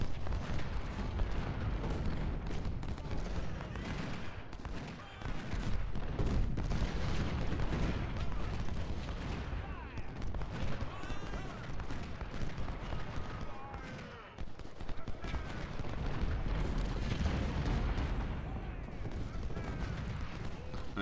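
Howitzer artillery fire in a Civil War video game, repeated booming shots and rumbling gunfire layered under continuous battle noise, with someone talking over it.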